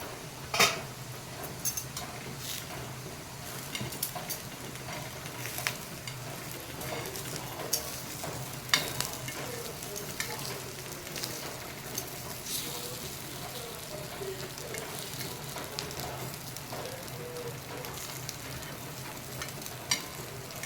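Sliced potatoes for a Goan-style potato fry crackle in oil in a pan as they are flipped, a continuous close sizzle dotted with light scrapes and clinks of a spatula against the pan.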